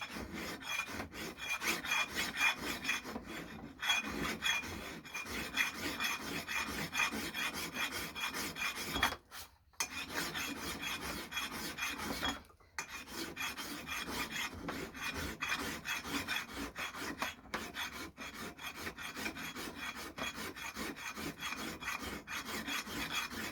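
A medium metal file rasps steadily across the bevel of an axe head, with repeated rhythmic strokes close by and only a couple of brief pauses.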